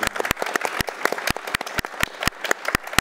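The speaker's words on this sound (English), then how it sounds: "So, let's give her a round of applause." Audience applause at a community conversation event on hunger: close, dense clapping from a small crowd, sharp individual claps standing out over a steady patter, continuing throughout.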